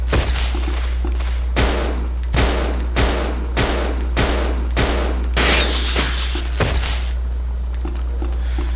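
Rapid gunfire from a modified gun in the video game Resident Evil 0, with a run of sharp, loud shots at irregular spacing over steady low background hum and a faint high whine.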